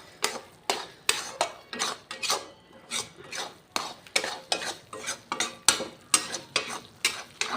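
Egg halwa roasting in a thick kadhai, stirred with a spatula in a steady rhythm of about two scrapes per second, each a close gritty swish over a faint sizzle, with no talk.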